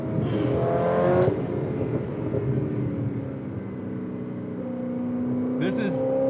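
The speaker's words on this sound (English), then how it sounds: "This is definitely my favorite Corvette I've ever driven." A 2011 Chevrolet Corvette C6 ZR1 or 2007 C6 Z06 engine pulls hard and revs up steadily from inside the car, a loud continuous drone with a brief lift-off around a gear change, while a person talks over it.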